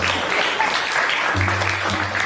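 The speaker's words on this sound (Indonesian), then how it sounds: "Berikan tepuk tangan dong buat Ananta" Moderate audience applause rises for a student named Ananta at a school performance for a teacher, continuous and fairly close, with a low steady hum underneath.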